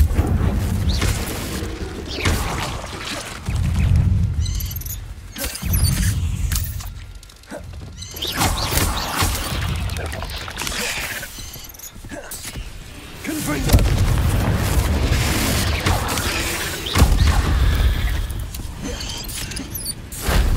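Incendio fire-spell blasts erupt in the Hogwarts Legacy video game as repeated booming whooshes and crackling bursts. They come in loud waves over a dense mix of combat effects and short game voices.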